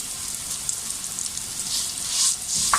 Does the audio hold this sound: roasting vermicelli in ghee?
yes